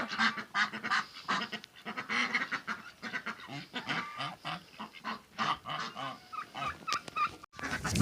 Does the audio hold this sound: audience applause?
no